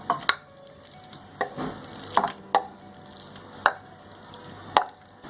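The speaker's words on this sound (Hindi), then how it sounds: "कीमा डाल दें पैन के अंदर" Minced mutton keema goes into a pan where onions were fried, with several sharp clattering knocks of spoon and pan and a brief soft sizzle in a quiet kitchen.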